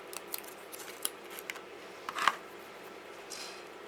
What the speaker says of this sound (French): je vais découper les roses directement sur le papier